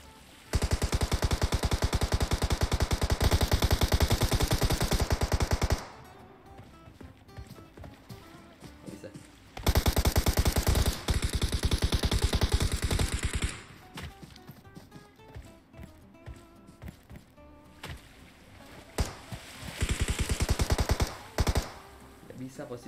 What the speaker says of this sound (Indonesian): Gue nembak, gue maju tembakin dari sini.